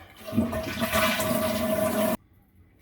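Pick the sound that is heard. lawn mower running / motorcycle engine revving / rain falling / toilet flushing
toilet flushing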